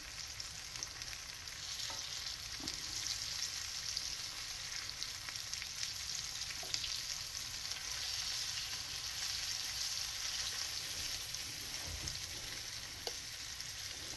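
Morel mushrooms fry in a pan with a steady, even sizzle and crackle that holds at a moderate level throughout, with a few faint soft knocks and no talking.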